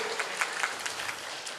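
Audience at a general council meeting breaks into applause, a dense steady patter of many hands clapping at close range throughout.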